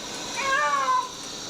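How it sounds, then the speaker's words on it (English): A single drawn-out cat meow rises and falls clearly for about half a second against a quiet background, with no talking over it. "Why is this cat's name Brian?"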